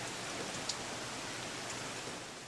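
Rain falling on a house left without a roof, a steady, fairly faint hiss of dense drops with one small tick of a drop partway through.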